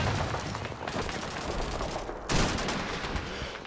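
Rapid gunfire in a Call of Duty 2 battle at Hill 400, a dense continuous fusillade at moderate level with a sharper, louder burst partway through.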